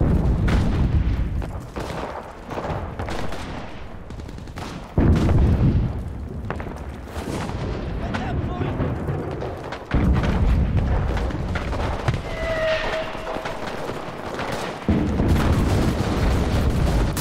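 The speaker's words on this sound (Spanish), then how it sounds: "ya tenemos un avión tirando cohetes" Repeated heavy booms and rocket-like blasts from an airplane firing rockets in the video game Enlisted, set in Normandy, come in bursts every few seconds, loud and close, with a brief whistling tone between impacts.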